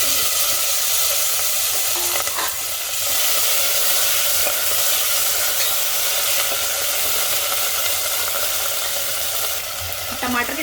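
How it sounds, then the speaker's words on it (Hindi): Garlic and curry leaves fry in hot oil as tomatoes are added, giving a loud, continuous sizzle with a steady hiss and a few faint stirring clicks, close by and without talk. "अब इसमें ऐड कर देंगे कड़ी पत्ता। इसके बाद इसमें टमाटर ऐड कर देंगे।"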